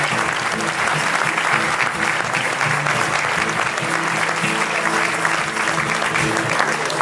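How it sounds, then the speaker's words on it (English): A crowd on the Thomson Celebration cruise ship claps continuously and loudly at a New Year cocktail reception, a dense, even wash of applause with no pauses. "let's hear it for their manager, all the way from Indonesia, it's Ahmad."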